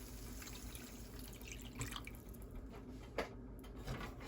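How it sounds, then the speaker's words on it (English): Water trickles and splashes softly as 3/4 cup is poured into a cooking pot, a faint, continuous pouring with a few small drips. "we're going to add 3/4 cups of water."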